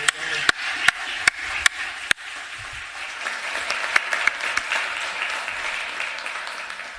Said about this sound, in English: Let's give all of them another round of applause for their outstanding work.